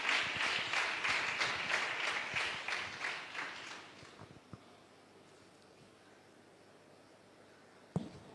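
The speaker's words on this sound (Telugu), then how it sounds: "గట్టిగా చప్పట్లు కొట్టి మన ధన్యవాదాలు తెలియచేద్దాం" An audience at a church students' vicariate meeting claps loudly in dense, steady applause for about four seconds, then it dies away into quiet room noise with a couple of faint knocks.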